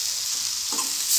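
Cumin powder, coriander, asafoetida and chili powder fry in a pan for capsicum curry, a close, steady sizzle with a brief scrape of stirring partway through.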